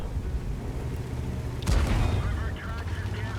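An artillery shell strikes a tank in World of Tanks with a sudden heavy boom, followed by rumbling debris and metallic ringing over a steady engine drone, while someone talks.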